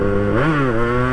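A Yamaha RX-King two-stroke motorcycle engine revs up in one quick sweep and drops back, a loud, buzzy, close harmonic whine that settles into a steady idle, with no speech.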